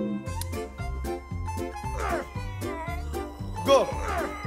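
A cat character meows repeatedly in the mobile game Strong Leg Simulator, with a series of short rhythmic meows over looping game music and a brief louder cry near the end, with no talking.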